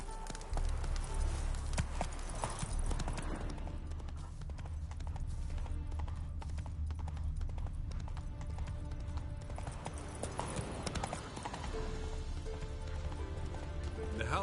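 Horse hooves clip-clopping steadily at a trot in The Witcher 3: Wild Hunt, a continuous rhythmic clatter of hoofbeats in the foreground with faint ambient game sound beneath.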